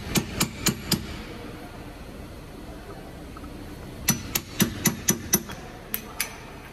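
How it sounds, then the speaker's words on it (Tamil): Chisel hammered against a car wheel drum cover during a bearing change, giving sharp metallic taps in quick bursts: four evenly spaced strikes, a pause, then a rapid run of six and two more close, ringing hits. "இந்த மாதிரி ஒரு உளியை வச்சு தட்டினீங்கன்னா வந்துடும்."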